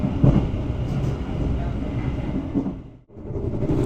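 Gaya Baru Malam Selatan passenger train departing Wonokromo station, a steady rumbling roll with rail clatter close by, dipping briefly near the end before swelling again.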